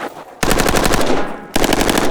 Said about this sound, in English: This was my first time shooting an AK FRT.